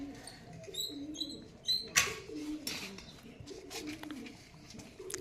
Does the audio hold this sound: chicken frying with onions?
no